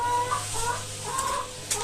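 Several chickens cluck and call back and forth nearby during car repair on a Peugeot, a busy overlapping chatter of hens at moderate volume with no talking.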